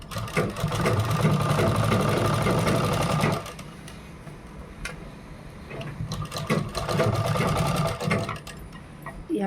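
An electric sewing machine runs a fast, steady whirring stitch on a blouse for about three seconds, pauses, then starts again with the same buzzing drone near the end.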